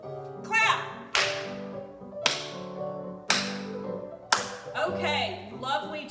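Sharp group claps from children in a pre-ballet class land at a regular beat, about one each second, while a woman counts aloud over music.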